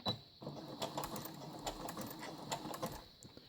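A domestic sewing machine stitches a pillowcase. A quiet, steady mechanical whirr with light clicking needle strokes runs for a few seconds, and no one speaks.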